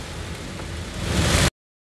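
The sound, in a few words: heavy rain during a journey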